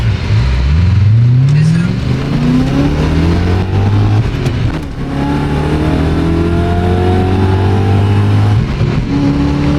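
A BMW E34 engine with an X-pipe exhaust revs hard and climbs through several gear shifts, loud and close, with rising pitched whines throughout.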